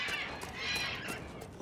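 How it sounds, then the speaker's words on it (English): A flock of birds calls in a Dragon Age: Inquisition wilderness area, a dense, continuous chatter of overlapping high calls over a soft ambient bed, steady and fairly quiet throughout. "Loud fucking birds."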